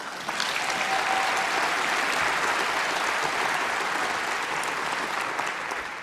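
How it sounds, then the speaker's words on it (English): Sustained applause from a large crowd, steady and loud throughout with no pauses. "This deserves applause."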